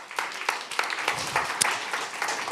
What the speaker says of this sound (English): let's give a round of applause for our next presentation